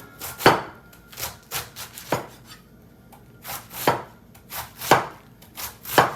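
A knife chops a cabbage finely for coleslaw, trimming close to the core on a cutting board, giving about a dozen crisp, close thuds at an uneven, unhurried rhythm with quiet gaps between them and no voices.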